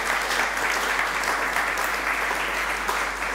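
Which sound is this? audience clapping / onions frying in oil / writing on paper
audience clapping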